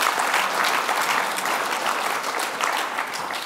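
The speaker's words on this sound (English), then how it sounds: "A round of applause for them," A crowd applauds steadily and loudly, a dense wash of clapping that holds at full strength throughout.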